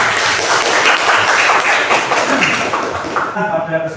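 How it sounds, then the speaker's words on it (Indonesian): Students in a religion class clap together, producing a loud, continuous burst of applause that fades out near the end as a voice begins. "Yes, tepuk tangan kita semua."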